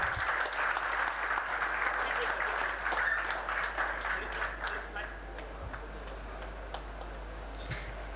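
Audience applause at a retired professor's felicitation during a university chemical engineering jubilee, a steady wash of clapping heard from a distance in a hall over a low hum, slowly thinning toward the end.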